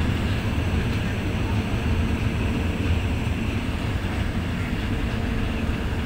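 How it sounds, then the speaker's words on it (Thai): Thai SRT diesel train 921 departs the station as a second train pulls into the yard, giving a steady, loud low engine rumble and continuous rolling noise throughout. "ตอนนี้กำลังลากเข้ามาจอดในย่านนะครับและเหมือนกับว่าในเวลาเดียวกันขบวน921ก็ได้สัญญาณออกจากสถานีพอดี"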